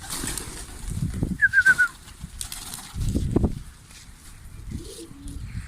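Urfa fancy pigeons burst into flight with quick rounds of wing flapping, a soft coo and outdoor ambience with light wind between the flurries.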